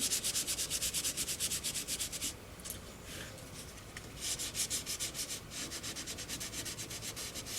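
Quick back-and-forth sanding of a plastic piece from a Moebius Models 2001 EVA Pod kit, close and steady, the gritty strokes pausing briefly before picking up the same rhythm again.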